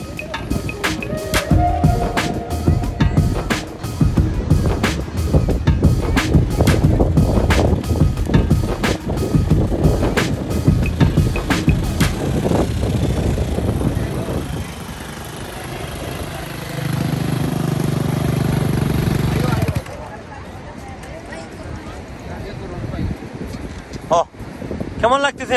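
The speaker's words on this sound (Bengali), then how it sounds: "আমার হোসেন ভাই বাইক চালিয়ে যাচ্ছে।" A motorcycle rides along Patuartek sea beach, its engine hum steady and close under heavy wind noise for most of the ride, then thinning to quieter rumble and bursts of wind near the end.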